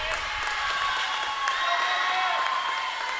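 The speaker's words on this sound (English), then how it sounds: "Lots of teammates in the wings cheering on, pushing her to finish strong." Teammates cheer from the wings at a girls' swim meet between Eagan and Lakeville North, a steady wash of crowd noise with shrill voices and whistle-like tones rising and falling, continuous throughout.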